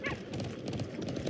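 Video game horse: rapid clip-clopping hooves with a short whinny at the start, loud and close, over a steady background wash.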